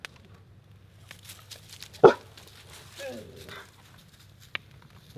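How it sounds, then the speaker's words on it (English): A dog at a night tent campsite gives a single sharp bark, then a few softer whimpering yips and scattered small noises in a quiet setting. "What are you barking at?"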